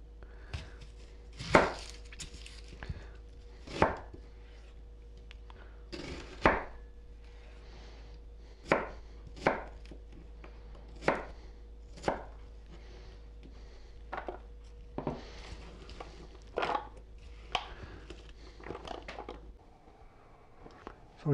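Onion diced with a knife on a cutting board, about fifteen distinct chopping thuds at an uneven, steady pace, close and clear over a quiet background hum, with no talking.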